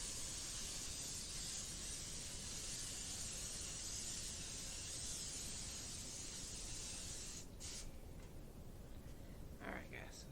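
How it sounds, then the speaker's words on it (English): Cooking spray hisses onto a baking dish in one long, continuous burst, fairly faint and steady, ending with a few soft clicks and knocks of handling. "we're going to get the spray, and we're going to spray this pretty generously"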